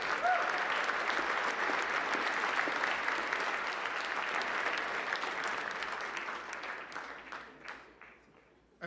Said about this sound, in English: let's give him another huge round of applause.